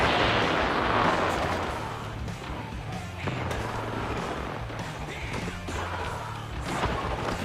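Gunfire and heavy impacts during an Apex Legends match, a dense, continuous barrage of shots and thuds layered over game ambience with no pause.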